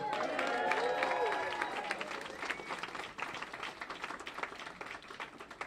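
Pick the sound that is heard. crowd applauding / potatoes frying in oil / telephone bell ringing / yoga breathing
crowd applauding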